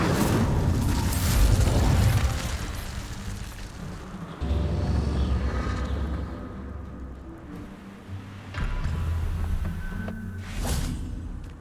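The Incendio fire spell is cast repeatedly in Hogwarts Legacy, with booming fiery bursts and whooshes in several loud surges separated by quieter rumbling gaps and no talk.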